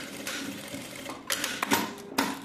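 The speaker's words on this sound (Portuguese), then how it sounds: "E vamos fazer uma costura agora aqui nas duas bordinhas." A sewing machine stitches along both edges of fabric for a small zippered wallet, giving a faint, steady mechanical whir with a few louder clicks and bursts toward the end, with no talking.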